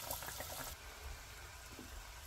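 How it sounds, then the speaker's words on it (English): Goja dough balls fry in warm oil for Guyanese-style goja, a continuous close sizzle and bubbling without talk. "Let's go put it in the oil and let it fry."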